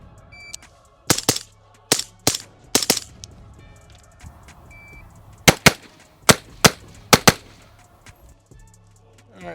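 Rifle shots fired at three targets in a timed drill, loud sharp reports in clusters of two and three with short pauses between, over a quiet background hum.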